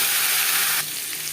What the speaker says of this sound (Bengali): 10-15 সেকেন্ড জিরে ভেজে নেওয়ার পর দিয়ে দেবো আলু